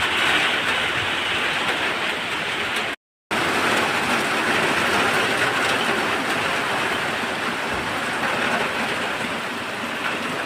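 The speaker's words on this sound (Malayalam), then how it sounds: "നല്ല മഴയാണ് കേട്ടോ." Heavy rain after strong wind, a dense continuous hiss of downpour filling the scene at steady loudness, with one brief dropout partway through.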